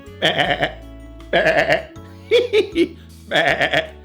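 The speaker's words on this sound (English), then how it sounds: "sheep make the sound of" Several loud, wavering sheep bleats in short bursts, close by, separated by brief pauses, with a shorter guttural call in the middle.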